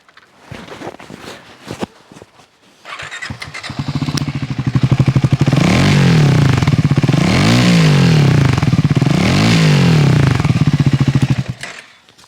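A Triumph Scrambler 400X single-cylinder exhaust thumps at idle, then revs up hard three times in rising and falling waves, loud and close, before dropping back.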